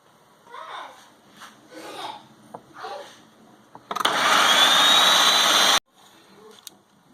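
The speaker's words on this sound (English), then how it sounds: "I'm going to add them to the Ninja and blend them up good" A Ninja blender whirs loudly for about two seconds as it blends fire cider ingredients, then stops abruptly. A voice speaks before the blending starts.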